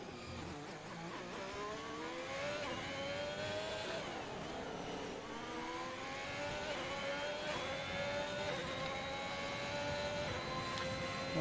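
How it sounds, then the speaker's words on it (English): Ferrari race car engine in a racing video game, Singapore Grand Prix circuit, with a high, rising and falling whine as the car shifts through gears on a fast lap, steady and close throughout. "I really like the sound of this Ferrari engine."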